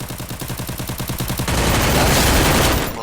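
Gunfire in the video game Free Fire: a rapid run of evenly spaced shots gives way to dense, sustained automatic fire, loud and close, with no talk.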